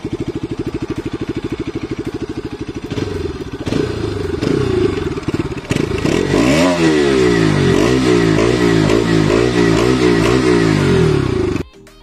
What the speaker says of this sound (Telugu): మనం ఇప్పుడు ఎగ్జాస్ట్ సౌండ్ విందాం